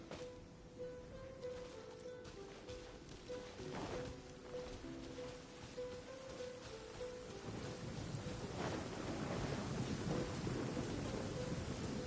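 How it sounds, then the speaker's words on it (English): Steady rain with rolling thunder in the video game Genshin Impact, a continuous wash of downpour that swells louder toward the end, with a low rumble building midway, alone without talk. "It always rains when I go on an adventure."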